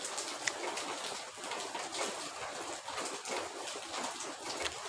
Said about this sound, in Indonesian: Ini malam niki hujan.